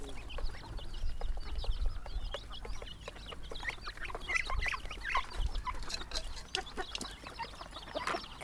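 Chickens cluck in a Lao farmyard where ducks are also kept for sale: overlapping clucks and short calls repeat steadily throughout, moderately close and loud against a constant low rumble of background noise.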